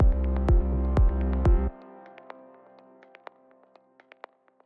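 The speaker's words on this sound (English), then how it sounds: "It's this click loop." In the minimal first drop of a dance track, a sparse click loop plays alone. Heavy low thumps open it, then cut out, leaving faint, evenly spaced ticks that fade and grow sharper toward the end.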